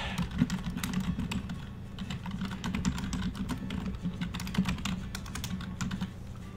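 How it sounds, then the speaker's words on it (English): Rapid, uneven clatter of a computer keyboard being typed on up close, dense keystrokes continuing steadily with brief pauses, fairly quiet with a low background hum and no talking. "ASMR keyboard typing"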